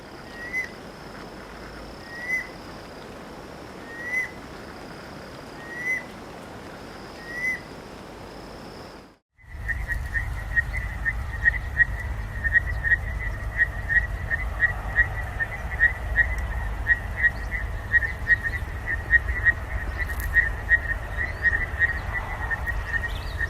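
Breviceps adspersus rain frog calling. Short, evenly spaced whistled chirps repeat in a quiet opening, then a denser chorus of rapid whistles plays over a louder, constant background.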